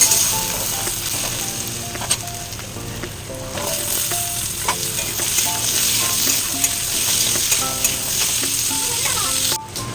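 Onions frying in a kadai, a loud steady sizzle with frequent scraping stir clinks of a spatula against the pan, running continuously throughout.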